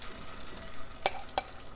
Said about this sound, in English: As you can see, it's sizzling.